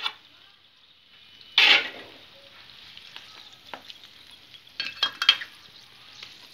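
A raw tamarind pickle mixture is stirred into oil in a pan with short scraping and sizzling bursts, one sharp stir early and a cluster of quicker strokes later, between quiet pauses.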